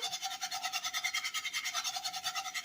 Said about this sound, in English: And I'm whisking it really, really good